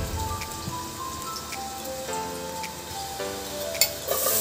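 Oil going into a pan as Chicken Maryland cooking begins, soft crackling and light ticking over a faint background, with a couple of brief tones and a sharper clatter toward the end.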